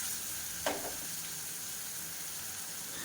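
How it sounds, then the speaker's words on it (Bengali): Ground spice paste of raw green chillies frying in a pan over a medium-low flame, a steady close hiss and sizzle throughout with one brief stirring scrape near the start. "এই মশলাগুলোকে আমি দিয়ে ভালোভাবে 1 মিনিটের জন্য কষিয়ে নেব মিডিয়াম টু লো ফ্লেমে"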